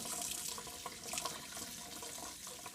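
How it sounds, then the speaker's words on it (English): Kitchen tap running over cooked beets being peeled by hand, a soft steady trickle with small splashes and spatters as the water hits the beets and sink, close and quiet, no talking. "Just run it under the water and just keep peeling it off."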